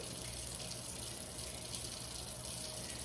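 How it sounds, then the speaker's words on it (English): Water runs in a steady, faint stream as it is added to sourdough discard in a kitchen, a continuous soft splash with no talk. "I'm just gonna add a little bit of water to it"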